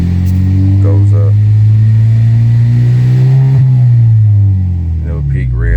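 The engine of a Genesis G70 revs up loudly and close by, its tone climbing smoothly toward about 5,000 rpm, holding briefly, then dropping back, with someone talking over the end.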